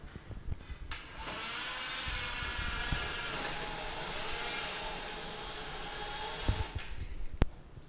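A Domino People stairclimber machine runs with a steady, loud motor hum and drone, with a few clunks near the start and the end.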